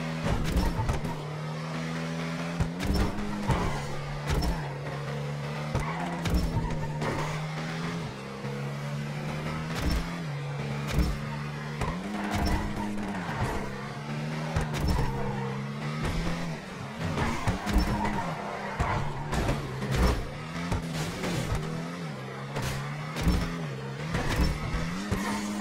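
Tuner cars racing down a straight street in GTA Online, a steady droning engine note that climbs and drops with repeated gear shifts and sharp bursts of acceleration, continuing without talk.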